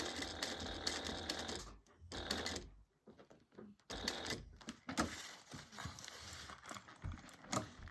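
A sewing machine stitches across a crossbody bag in quiet, rapid bursts of needle clatter, broken by a short pause partway through as the bag is turned.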